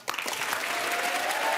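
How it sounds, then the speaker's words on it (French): Studio audience on a French television game show bursts into steady, dense applause that starts abruptly and keeps going at an even level, fairly close and full, with a few faint voices mixed in. "j'aimerais qu'on les encourage et qu'on les applaudisse pendant 10 secondes"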